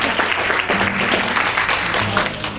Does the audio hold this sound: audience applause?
yes